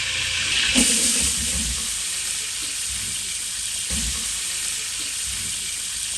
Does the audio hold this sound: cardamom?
yes